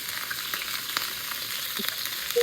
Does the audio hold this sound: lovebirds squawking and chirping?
no